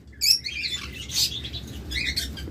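Caged pet birds offered for sale chirp in short bright bursts, a few close tweets with a brief flutter of wings over quiet background hum.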